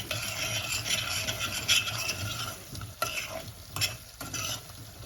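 Potato soup ingredients being stirred in a pot, with repeated close scraping and rubbing strokes over a low sizzle from the pan, no talking.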